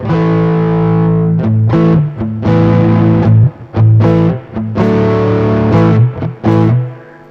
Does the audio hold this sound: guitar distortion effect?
yes